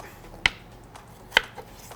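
Knife chopping onion into small pieces on a board before blending into a puree: two sharp, isolated cuts about a second apart, close and clear, over faint room noise.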